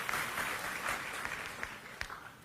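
A church congregation gives a soft, distant round of applause, a steady wash of many hands clapping with a few sharper claps standing out.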